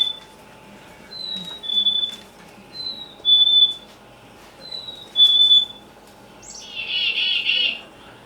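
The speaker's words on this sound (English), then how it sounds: "So you just heard the chickadee" A black-capped chickadee repeats a clear, high two-note whistled song three times at even intervals, then gives a brief buzzy call, in a quiet backyard.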